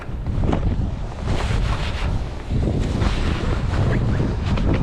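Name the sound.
west wind blowing at a pier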